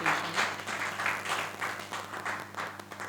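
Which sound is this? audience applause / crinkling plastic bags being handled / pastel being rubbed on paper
audience applause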